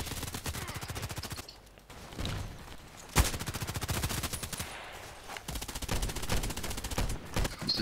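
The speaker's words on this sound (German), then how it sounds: "Der ballert uns ab ohne Ende." Rapid automatic gunfire fills the Contract Wars video game match, with bursts of machine-gun shots rattling in quick succession, a sharp louder shot, and brief pauses between volleys.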